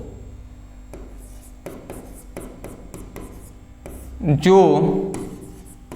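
Marker or chalk strokes on a classroom board come in short scratchy bursts with pauses between them, sitting under a teacher's voice explaining a definition about light. A louder spoken passage follows near the end.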